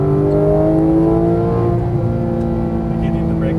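Porsche GT3 991 accelerating on a track, the engine note climbing steadily in a loud, sustained in-car roar with strong harmonic layers from start to finish.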